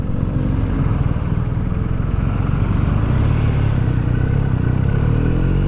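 Motorcycles ride along a road in the Spanish Pyrenees, heading toward Sort on the N260, heard as a loud, continuous engine drone and wind rumble close by, with no one speaking.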